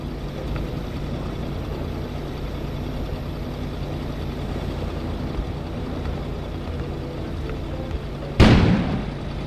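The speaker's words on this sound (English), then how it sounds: "An explosion suddenly occurred outside." A sudden explosion outside in a village in Nord-du-Québec: a low steady rumble with a single sharp boom near the end that rings out and decays.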